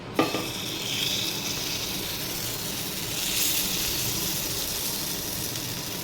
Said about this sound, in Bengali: চলো তো এবারে আমি এটা ভেজে নেব